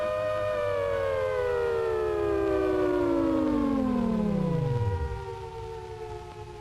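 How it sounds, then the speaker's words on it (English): A warning siren sounds before a rocket sled test run, a loud sustained wail that slowly drops in pitch and winds down to a stop, with no talking. "The sirens have sounded the warning,"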